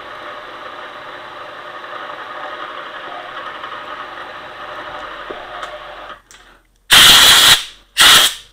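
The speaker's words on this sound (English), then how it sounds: "poke a drill through" A steady mechanical whine runs for several seconds, stops, then two loud, harsh bursts of drilling follow in quick succession.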